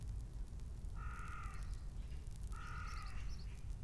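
A crow, heard outdoors in Norfolk, gives two harsh caws about one and a half seconds apart, moderately distant over a low steady background rumble.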